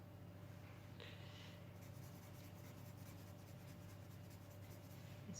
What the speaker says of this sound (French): C'est long de colorier un chapeau pointu.